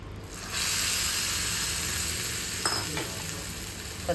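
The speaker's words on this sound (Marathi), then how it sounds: "छान अशी चुरचुरीत अशी फोडणी टाकलेली आहे" Hot tadka tempering is poured into a chutney and sizzles loudly up close, a sudden bright hiss that settles into steady crackling and spitting oil over several seconds.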